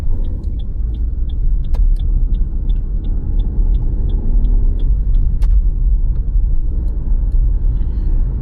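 A car drives along a highway in Punjab near Jalalabad, heading toward Firozpur, with steady loud road and engine rumble throughout and a faint regular ticking like an indicator over the first several seconds, no talk.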